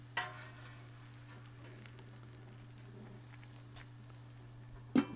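Hot dog grilled cheese cooking on a Blackstone griddle, a faint, steady sizzle beneath a low electrical hum, broken by two sharp clanks at the start and near the end, with no talking.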